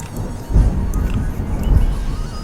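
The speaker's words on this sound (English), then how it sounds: "did you guys hear that thunder?" Deep thunder rolls close by, swelling in two heavy rumbles over a couple of seconds with no voices over it.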